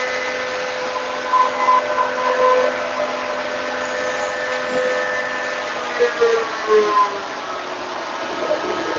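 An electric fan drives a small generator, a steady mechanical whine and hum with tones that waver and slide lower as the fan speed is reduced, running continuously at moderate level.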